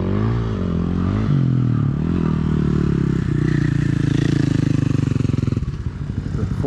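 Dirt bikes, a 450 leading a 50 and an 80, ride through Wilson Canyon near Smith Valley, Nevada, a loud close engine drone with shifting pitch and clattering, revving harder near the end.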